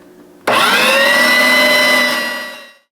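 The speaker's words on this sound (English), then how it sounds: "So we're gonna grind this up" An electric meat grinder processing fatty meat for sausage starts abruptly with a loud, steady motor whine and grinding roar that holds for about two seconds, then fades and cuts off, with no voices.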